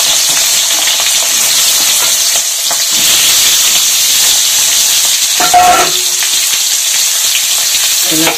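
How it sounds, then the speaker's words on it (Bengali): Small potatoes frying in hot oil in a pan, a loud continuous close sizzle and hiss lasting the whole stretch, with a few brief clinks and scrapes of stirring near the end, no talking. "লাল লাল করে ভেজে তুলে নিতে হবে"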